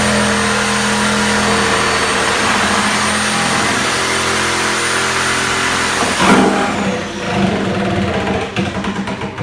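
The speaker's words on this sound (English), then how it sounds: "used the Sawzall again and cut her right down all three sides" Sawzall reciprocating saw cutting through a built-in basement cabinet, a loud, steady motor whine with a harsh buzzing drone, shifting and roughening partway through as the blade works through the piece.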